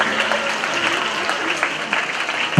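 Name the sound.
audience applause welcoming guest at school event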